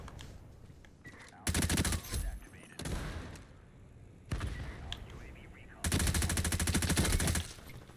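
Long, loud sustained bursts of light machine gun fire in the shooter game Ironsight, two extended volleys with shorter bursts between, over game ambience with a player's voice talking at moments.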